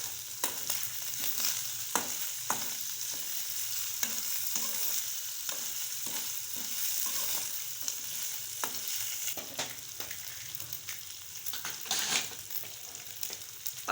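Chicken pieces frying in a pan with a constant loud sizzle, broken by the regular scrape of a spoon stirring through them, close up and with nobody talking.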